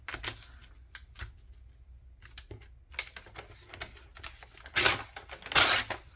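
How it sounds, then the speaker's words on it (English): Paper is torn by hand while making a grungy shabby winter journal page, with scattered crinkles and handling rustle building to two louder, longer ripping bursts near the end. No one talks. "Okay, and then I'm going to rip right here."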